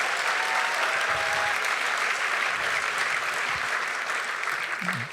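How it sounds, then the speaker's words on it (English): An audience at a talk featuring Naomi Klein gives a big round of applause, a thick, even wash of clapping that stays strong for about five seconds, with a few faint voices and murmurs underneath. "Big round of applause for all of them."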